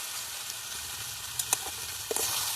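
Egg curry with green chillies sizzles steadily in a pan, a soft continuous hiss broken by a few faint clicks and stirring taps.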